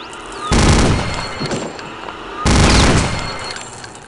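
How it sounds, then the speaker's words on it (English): Venom minigun in the game Wolfenstein spinning up and firing two loud, dense bursts, each lasting about a second, separated by a short quieter stretch. "We also get the iconic Venom gun."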